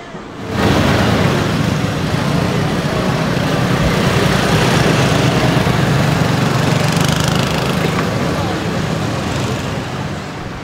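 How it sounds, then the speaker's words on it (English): Several mini monster trucks roll down Elm Street in a St. Patrick's Day parade in Manchester. Their small engines make a loud, continuous buzzing drone, close by, that holds steady throughout and only eases slightly at the end. "Mini monster trucks."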